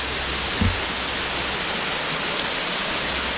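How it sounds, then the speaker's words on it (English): Small waterfalls spill over rocks in Chewacla State Park on their way to Moore's Mill Creek. The water makes a steady, loud, unbroken rush with no voices. "it just empties down into some smaller waterfalls over these rocks here"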